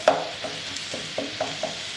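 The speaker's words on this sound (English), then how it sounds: "while that's cooking, we're gonna let it saute there for just a second and stir it" Lean ground beef sautéing in a pan for spaghetti meat sauce, a steady soft sizzle with light scraping taps of stirring every quarter to half second.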